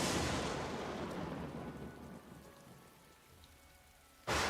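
Rain pours with a rumble of thunder in a stormy ambience for a tabletop role-playing session, loud at first and gradually easing before a sudden burst of noise at the end.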